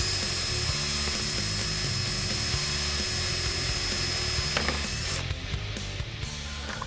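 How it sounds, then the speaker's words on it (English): A power drill bores out rivets holding the front splitter mounting panel on a 2015-2017 Mustang GT Premium with the Performance Package, a steady, loud high-pitched whine running continuously with no talk. "which we have to drill out to remove this mounting panel"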